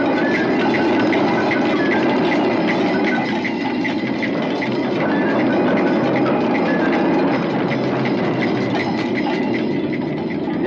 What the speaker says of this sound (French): Attention, mise à feu du moteur principal.